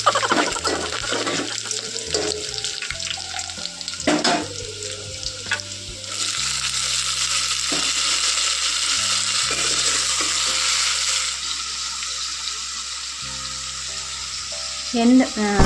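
Onions frying in oil poured into a still-wet pan, crackling and spitting steadily and loudly up close, with a broad hiss that swells partway through and scattered clinks and scrapes.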